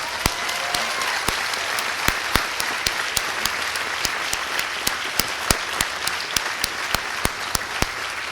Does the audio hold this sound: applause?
yes